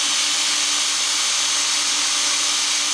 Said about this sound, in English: I'm going to start with a 9/16 drill bit